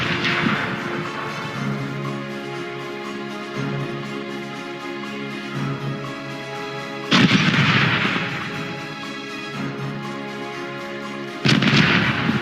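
Ship cannons in the pirate video game Corsairs Legacy boom in heavy broadside volleys, with a loud blast near the middle and another near the end over a steady rumbling battle bed.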